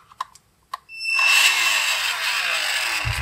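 Power screwdriver driving housing screws into an AEG Ergorapido CX7 stick vacuum: a few light clicks and taps, then a loud, close, high-pitched motor whine that runs steadily for about two seconds.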